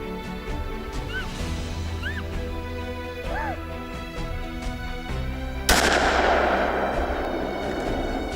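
A single loud rifle shot cracks out during a roebuck hunt, following several seconds of quiet outdoor ambience with scattered birdsong, and its echo trails off afterward.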